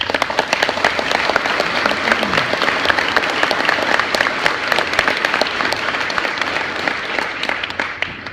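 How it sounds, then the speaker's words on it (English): A large audience applauds graduates of Air Assault School at a military graduation ceremony, with steady, dense clapping that stays loud and even throughout. "Please join me in a round of applause."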